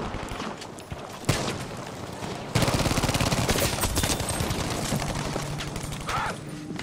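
Battlefield V gunfire: a sharp early shot, then sustained rapid automatic fire in a loud, dense rattle lasting several seconds before tapering off near the end, with no voices.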